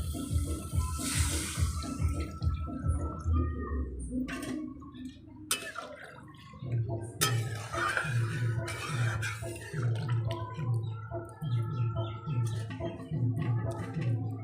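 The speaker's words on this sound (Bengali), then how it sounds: "এবারে এর মধ্যে দিয়ে দেব জল।" Water poured into a pan of rui fish curry with papaya and potato: a short splashing pour at the start, followed by quieter clinks and low bubbling, fairly faint overall.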